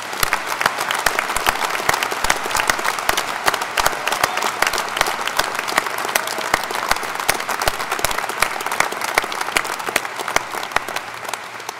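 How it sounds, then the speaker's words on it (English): A commencement crowd at Penn College applauds its veterans with a long, even wash of many hands clapping, sustained at a steady level for over ten seconds with no talking. "Please join me again in giving our veterans a round of applause."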